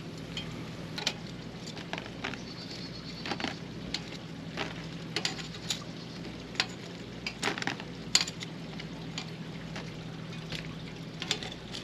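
Batter cooks on a hot cooker, giving a soft continuous sizzle under frequent sharp utensil taps and scraping clicks as it is worked. No voices are heard.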